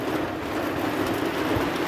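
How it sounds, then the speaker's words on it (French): Steady rain falls on a roof, a dense, even patter that holds at moderate loudness throughout with no voices. "Là, ça pleut, ça pleut, ça pleut."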